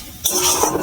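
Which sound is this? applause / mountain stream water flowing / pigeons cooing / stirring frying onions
stirring frying onions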